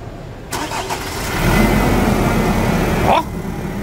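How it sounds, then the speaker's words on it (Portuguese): Engine of a 2017 Nissan Frontier 2.3 cranking and catching, then running with a raised, rough roar for about two seconds before settling to a steadier idle, close and loud with no talk over it. "Vai lá, dá partida lá."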